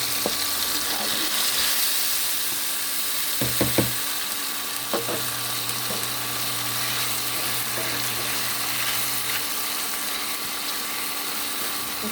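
Boiled eggs being stirred into sautéed onion and tomato in a hot pan, with a steady low sizzle throughout, a few scraping clicks of the utensil, and a faint hum in the background.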